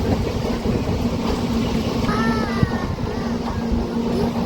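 A boat engine on the Bharathappuzha river near Kuttippuram runs as a steady low drone with a faint mechanical hum, heard over wind and water noise.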